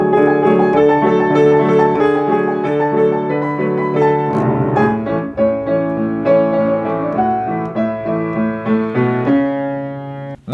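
Piano playing a song, a full chordal arrangement with melody over sustained bass, loud and close, played alone without voices.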